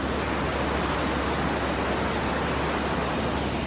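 Water rushes steadily through an open sluice gate at Moulvibazar, a dense, continuous roar of churning flow with no pauses, loud and close throughout.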